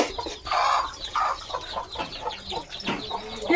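Country chickens cluck and squawk busily close by, overlapping calls rising and falling in a noisy farmyard jumble.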